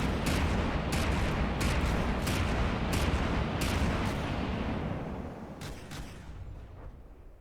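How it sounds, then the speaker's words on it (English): Torpedo impacts and gunfire on an enemy ship in the naval combat game From The Depths, a dense, loud barrage of booms and sharp cracks that thins out and fades over the last seconds. "So that was the torpedo hitting them."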